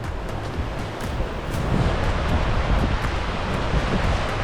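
Rushing standing waves on the River Wye in winter, a loud continuous broadband roar of churning water that swells slightly in the second half, with no voices.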